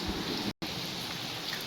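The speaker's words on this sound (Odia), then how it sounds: "ପ୍ରବଳ ବର୍ଷା ହେଉଛି।" Heavy rain pours down outside in a dense, continuous roar that stays loud, broken only by a split-second gap, with no voices.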